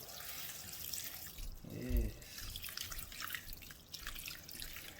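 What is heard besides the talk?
Kangen water poured over sea moss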